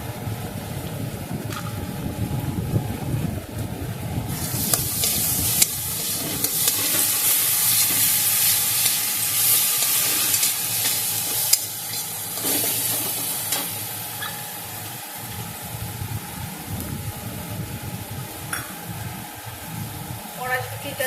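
Ginger paste sizzles loudly in a hot pan for an Indian cauliflower and potato curry, with bursts of steam hiss and repeated stirring scrapes, and the frying gradually quiets down.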